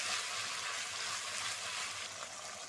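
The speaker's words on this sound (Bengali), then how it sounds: "মশলাগুলো আমি খুব ভালো করে কষিয়ে নেব।" Ginger and dried red chili paste fry in a pan for a Bengali small-fish curry, giving a continuous soft sizzle that fades slightly toward the end, with no talking.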